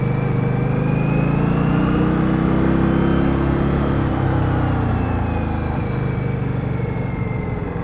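A 2015 Indian Scout motorcycle engine on a test ride, a strong steady road drone with a slight rise and fall in pitch as the bike pulls along, close and unbroken, no voices.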